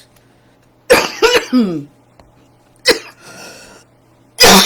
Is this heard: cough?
yes